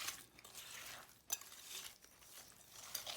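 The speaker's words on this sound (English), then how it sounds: "I'm going to whisk it to get it mixed up and make sure there's no lumps in the brown sugar." A whisk scrapes and clinks steadily around a bowl of brown sugar, salt and butter, soft and close, with a few sharper taps against the bowl's side.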